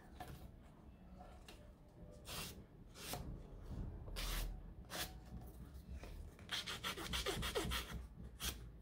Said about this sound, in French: Je vais y aller à la lime, ça m'énerve.